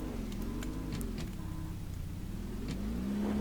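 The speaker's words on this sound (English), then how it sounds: "I'm gonna drive the go-kart around here." A rented go-kart engine runs steadily while driving over rough campsite terrain, a continuous close mid-pitched drone with slight wavering in pitch and a rise near the end, with no talking.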